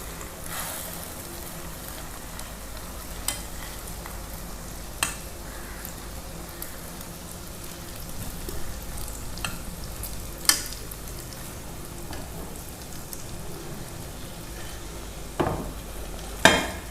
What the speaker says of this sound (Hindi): ऑयल गरम हो गया, अब इसमें अंडा डालेंगे।